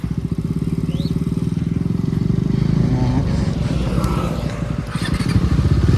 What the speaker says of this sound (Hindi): अपनी बाइक चला के चलो